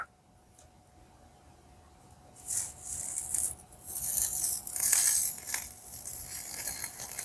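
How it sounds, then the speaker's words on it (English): Crackling and sizzling bursts of water hitting a hot tool on a vintage doll's wig, rising in loudness after a quiet start, with hissy bright textures pulsing irregularly. "The sound you're hearing is just the crackling of the water."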